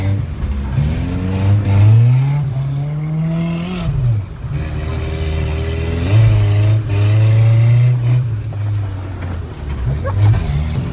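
Single-cam KA24E four-cylinder in a Nissan 240SX revving hard while drifting on a wet track in the rain, engine pitch rising and falling in repeated surges, heard from inside the car with people talking over it.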